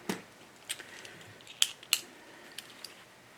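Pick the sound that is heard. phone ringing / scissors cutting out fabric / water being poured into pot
scissors cutting out fabric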